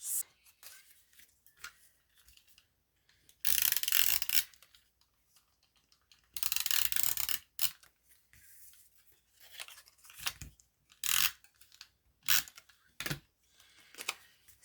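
Clear tape pulled and torn off the roll to stick pre-cut paper boxes into a wellness planner, coming as several short crackly rips and tearing bursts with quiet gaps between, close and fairly loud, no voices.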